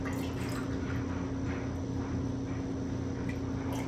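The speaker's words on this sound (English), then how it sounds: "I'm just pouring a can of water in each one" A can of water is poured into a pot of tortellini soup with sausage, giving a steady, close splashing and trickling stream over a low background hum.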